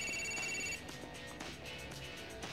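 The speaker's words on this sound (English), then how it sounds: "The phone's ringing" A phone rings in the video game GTA IV with a bright electronic trill repeating in short bursts, steady and moderately loud, then cutting to quieter game background.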